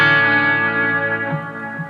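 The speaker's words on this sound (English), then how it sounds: "that little bit of kind of chorusy sound that you're hearing, and the delay reverb really added to the ambience of the whole thing" An electric guitar with chorus, delay and reverb effects sustains a single shimmering chord that slowly fades into an echoing, ambient wash.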